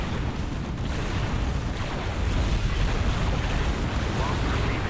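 Frag grenade explosions in the Dawn of War strategy game, a continuous rumbling battle din of heavy blasts and gunfire, loud and dense, with speech running beneath.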